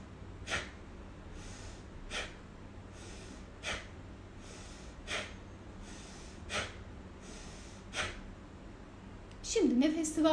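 Bhastrika breathing during a seated meditation session: about nine sharp, forceful breath bursts come at a steady, evenly spaced rhythm, faint against room noise, and a voice enters at the end.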